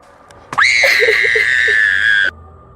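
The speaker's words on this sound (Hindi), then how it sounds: "उस पल आकाश में एक चीख सी गूंज उठी" A single loud, sustained scream rings out from a horror story for nearly two seconds, high-pitched and piercing, then cuts off abruptly into quiet.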